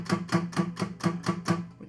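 An acoustic guitar string plucked over and over with heavy muting, giving a dull, choked thud in a steady, even rhythm, close and moderately loud.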